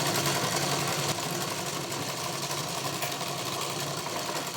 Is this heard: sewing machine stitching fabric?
yes